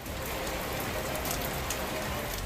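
Heavy monsoon rain pours down in a dense, steady hiss with scattered drops spattering on surfaces, loud and continuous throughout, with no clear voices.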